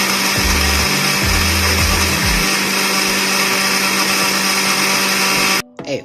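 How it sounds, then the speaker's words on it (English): A kitchen blender whirs loudly and steadily while blending a chocolate milkshake, its motor pitch shifting and lurching early on before settling into a constant drone that cuts off abruptly near the end. "Alright, it's time to blend this."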